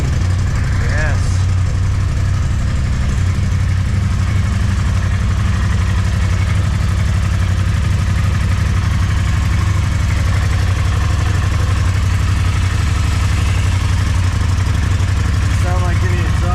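A newly installed turbo engine in a Polaris RZR side-by-side idles steadily with a loud, continuous low rumble, unbroken throughout and heard close up.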